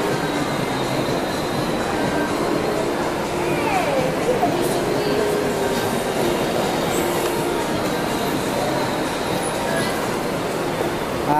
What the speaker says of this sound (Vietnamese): cái tàu mà xe lửa bự nhất ở Italy Rome